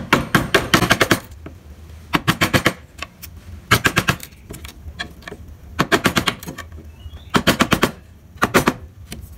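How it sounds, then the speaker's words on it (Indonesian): A chisel works a wooden Pajajaran ornament, giving rapid bursts of sharp, close tapping strikes in groups of several, separated by brief quiet pauses, with no voices. "Kalian bisa gunakan pahat penguku untuk membuat ornamen jadi cembung."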